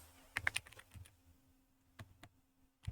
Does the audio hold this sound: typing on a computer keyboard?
yes